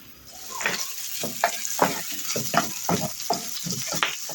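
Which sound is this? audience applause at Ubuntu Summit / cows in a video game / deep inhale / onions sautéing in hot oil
onions sautéing in hot oil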